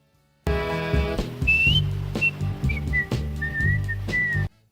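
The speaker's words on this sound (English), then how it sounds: "that whistling you hear at the end of the song" A singer whistles a melody at the end of a soul song, clear melodic whistled phrases over a sustained band backing with steady drum hits, then the music stops.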